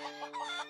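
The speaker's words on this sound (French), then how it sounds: "Fluttershy, tes poules se sont enfuies." Hens clucking in an animated cartoon, a quick pair of short, nasal clucks in under a second, clear and close with no talk over them.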